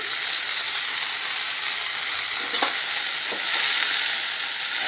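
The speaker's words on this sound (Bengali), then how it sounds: "ভালো করে নেড়ে চেড়ে নিচ্ছি" Brahmi greens, salted, frying in a pan are stirred steadily, with a continuous close sizzle and a few sharp scrapes of the utensil against the pan.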